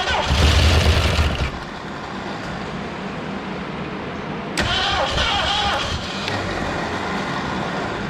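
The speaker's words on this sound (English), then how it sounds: "Hear a little clattering in the top end" A 1970 Ford Torino GT muscle car, abandoned for 24 years, runs with a clattering top end, giving a loud, rough, steady engine roar with a surge partway through and faint talk over it.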